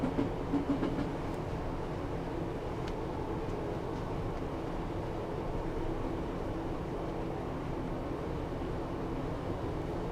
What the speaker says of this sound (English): I'm just going to allow the train to coast at this point.